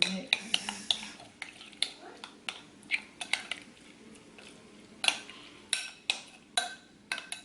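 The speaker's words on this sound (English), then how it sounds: "And we're gonna give it a good mix." Ingredients with dill being mixed in a bowl, a rapid series of sharp clinks and scrapes of a utensil against the bowl in an uneven rhythm, close and fairly quiet.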